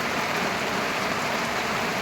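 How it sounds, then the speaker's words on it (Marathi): Steady rain falling outdoors over a field of seed plants after a day of drizzle, a continuous even hiss with no voices. "बघू आता याला कसा पाऊस वाढलेला आहे"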